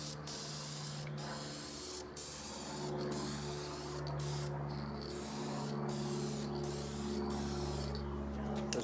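A spray can lays a light coat of paint on a part from a Honda CRX, producing a close, continuous hiss broken by brief pauses between passes.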